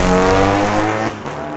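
VW street-legal drag cars roar down a raceway strip at night, a loud, sustained engine drone with rising harmonic whine that fades slightly as the cars pull away.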